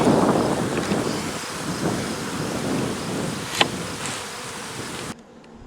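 Honeybees swarming around an open, crowded hive, a dense close buzzing drone with wind rushing over the microphone, steady and loud before dropping away near the end, with no talking.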